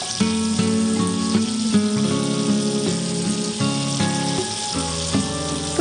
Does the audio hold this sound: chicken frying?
yes